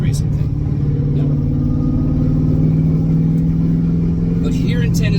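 A supercharged 600 HP Mazda Miata on a twisty Tennessee back road, its engine droning steadily and loudly throughout with a few sharper transients at the start and near the end.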